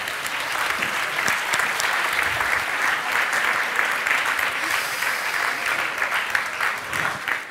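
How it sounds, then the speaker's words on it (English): Audience applause at a science teaching awards ceremony: a large crowd claps in a dense, even wash that holds steady for several seconds, loud and continuous, with no talking over it. "So round of applause for them."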